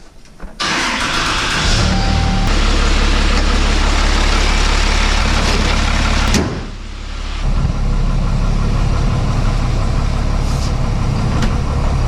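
A 1000-horsepower Cummins diesel race truck engine roars loud and close, with a brief dip in the drone before it picks back up and runs steady again.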